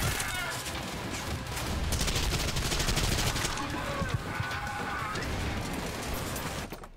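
Shotgun blasts in a first-person shooter video game, loud, close, rapid booming shots that go on without a break amid a dense wash of other gunfire and battle noise.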